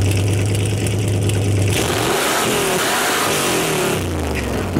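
Engine of a restored C30 Mitchell camper with headers and side pipes, loud steady rumbling idle that rises into a rev, close by with no talking.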